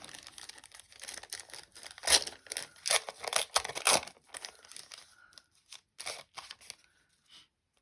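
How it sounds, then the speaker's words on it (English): Crinkly foil wrapper of a 1990 NFL Pro Set card pack is torn open close up, a run of sharp rips and crackles in bursts, then a few softer rustles and a faint final crinkle. "we're going to be opening up 2 packs of the NFL Pro Set"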